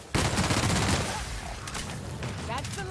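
Bursts of gunfire in The Outer Worlds video game, a dense loud volley followed by scattered shots and explosions, continuous and close over the whole stretch.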